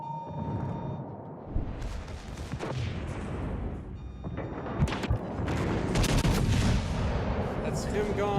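Heavy naval gunfire from World of Warships Legends, a battleship under fire from several enemy ships, with repeated loud booming salvos and rumbling impacts building over a continuous low roar of battle.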